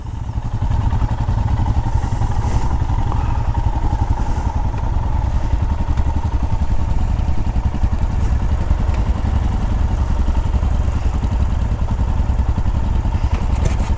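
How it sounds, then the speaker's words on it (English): An old motorbike being kick-started in wet weather, heard as a loud, close, steady engine roar with clattering mechanical thumps throughout. "I wonder how many kicks it will take to get it going"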